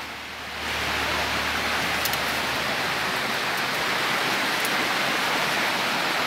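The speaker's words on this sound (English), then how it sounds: "Raining." Steady, dense wash of rain hissing down, broadband and constant, swelling in after a quieter first half-second and holding at a loud, even level.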